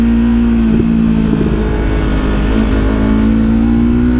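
A Yamaha MT-03 motorcycle engine drones loud and steady while riding through corners on back roads, its pitch shifting slightly with throttle, with no talking.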